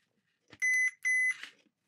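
A multimeter on continuity test beeps at a lamp plug's prongs: two short, close, high electronic beeps in quick succession, each with a small click of the probes around it.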